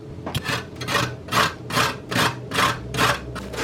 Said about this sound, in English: So I'm just grating this pepper now.